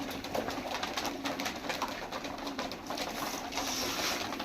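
Soft, continuous pigeon cooing with a busy, rustling background of birds close by, steady in loudness throughout.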